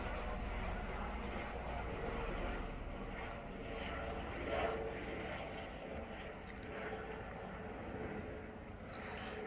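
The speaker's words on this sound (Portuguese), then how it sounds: "temos um avião, um helicóptero, alguma coisa assim passando" Aircraft or helicopter passing overhead outdoors, a steady broad engine drone that swells slightly at its midpoint and then fades, heard at a distance as a continuous rumble with no speech.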